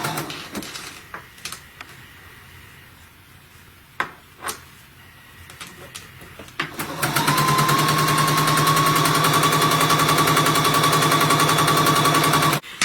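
A sewing machine stitches piping for Christmas stockings. A few quiet handling clicks come first, then the motor runs in a steady, fast, close-up whir for about six seconds before stopping.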